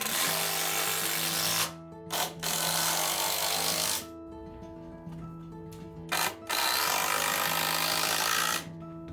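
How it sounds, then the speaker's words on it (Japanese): A power driver runs screws sideways into a wooden floor beam during a carpenter's house renovation, whirring loudly in long sustained bursts broken by brief pauses and short stops, close to the tool and with no talk. "大引きを止めるときはね、基本横からのビスで止めてやります。"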